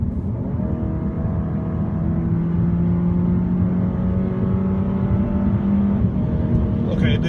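A 2015 Dodge Dart GT accelerates smoothly, its engine note rising steadily in one continuous sweep without shift breaks, heard from inside the car at moderate loudness.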